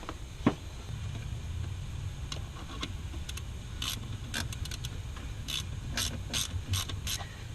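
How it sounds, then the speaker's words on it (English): A ratcheting wrench works bolts on a Subaru during a manual transmission swap, near an aftermarket starter. A single knock comes first, then bursts of quick, close metallic ratchet clicks repeat over a low hum. "I don't ever torque down bolts with the ratcheting wrench"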